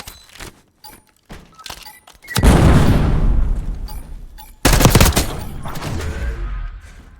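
Gunfire in an online shooter video game, sniper fire included: a few light clicks and taps, then two long, loud volleys of rapid shots. The second volley breaks in suddenly and fades into rumbling echoes.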